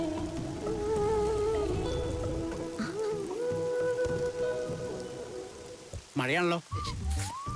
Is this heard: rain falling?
yes